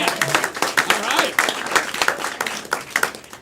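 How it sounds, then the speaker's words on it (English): An audience breaks into brisk applause, dense clapping from a crowd filling the room, with a voice talking over the clapping. "clap for the three bravest among us"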